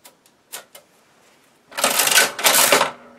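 A Burroughs Class 1 adding machine clacks through a few sparse key presses, then gives two loud, dense mechanical whirring cranks close up.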